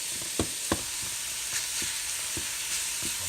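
Ground beef browns in a pan with a steady broadband sizzle, broken by a few sharp spatula scrapes and stirs, close and moderately loud.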